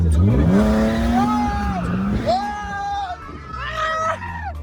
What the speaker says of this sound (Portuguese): Já entra no meio e já vai atrás, já vai embora a boa. Já entrou o drift.